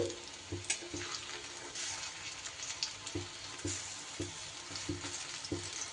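Fritters of taro, potato and red lentil paste frying in hot oil, giving a soft continuous sizzle with occasional light knocks and stirring bumps, fairly quiet and without any voices.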